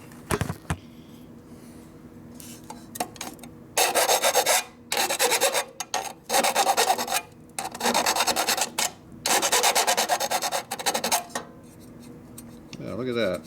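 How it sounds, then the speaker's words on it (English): A file deburrs a metal part for a 1957 Harley panhead drag bike in bursts of harsh, close rasping strokes, separated by quiet gaps with a low background hum. "That's why I always deburr stuff."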